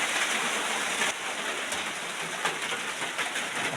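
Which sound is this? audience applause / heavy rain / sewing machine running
heavy rain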